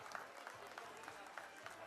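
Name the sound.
audience applause for a gold medal winner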